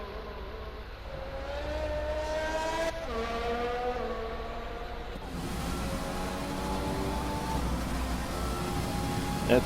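Formula 1 race car engines in F1 20 at the Canadian Grand Prix, a sustained high-pitched whine that rises and shifts as cars accelerate and pass close by, loud and continuous without talk.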